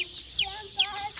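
Chickens being caught on a farm, giving short clucks and squawks in quick succession, close and fairly loud, with no talk.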